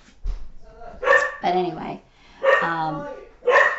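A puppy barks indoors in a few short yips, close by and moderately loud, overlapping a person talking.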